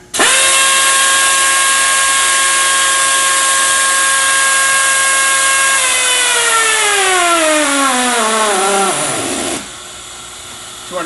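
A Torc-Up Raptor power torque wrench runs at a loud steady whine while tightening a nut, then slows and drops in pitch as it stalls against the load, falling nearly silent before a short blip, close and continuous.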